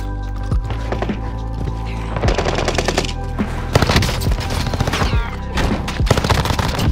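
Warzone video game gunfire rattles in dense, continuous automatic bursts with sharp individual shots, loud and close throughout and layered over a steady low rumble.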